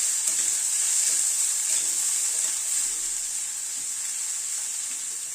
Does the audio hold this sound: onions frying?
yes